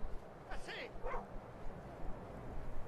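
Dog barking in the game Skyrim Dragonborn, two short yips close together near the start, then quiet game ambience with faint background noise.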